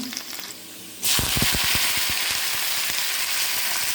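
A quiet moment, then a sudden loud burst of sizzling as garlic hits hot oil with popped mustard seeds, settling into a steady, close frying hiss.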